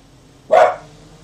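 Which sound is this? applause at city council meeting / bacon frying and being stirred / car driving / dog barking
dog barking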